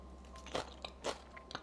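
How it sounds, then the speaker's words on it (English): Someone bites into crunchy homemade cucumber and pepper banchan seasoned with gochujang, with three crisp close-up crunches spaced apart in a quiet room. "let me taste the one that we just made, the cucumber pepper banchan"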